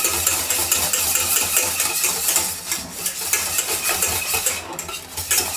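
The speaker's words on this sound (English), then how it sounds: "So you might be asking why I'm whisking this in a pan" A whisk beats thick homemade mayonnaise in a pan, producing a steady, close, continuous metallic scraping and swishing with no talk.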